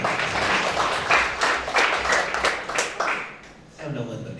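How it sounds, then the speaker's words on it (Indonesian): Applause from a church congregation during a Sunday worship service with communion, a dense wash of clapping under voices and music that fades near the end before a voice returns. "Tepuk tangan bagi kita"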